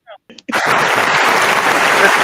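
Hand clapping at a soul line dance gathering, a dense burst of many claps rising abruptly after a few brief voice fragments and continuing loud and steady.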